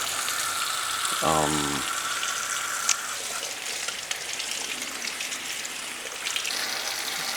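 Pork for cochinita pibil rinsed under a running kitchen tap, a steady splashing hiss of water throughout, with a brief low rumbling hum early on.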